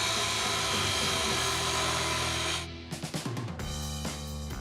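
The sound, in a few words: grinding down welds on a boat hull frame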